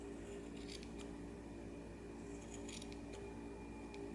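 Scissors snipping the short yarn ends of a knitted pompom, a few soft, close cuts in small clusters over a steady hum.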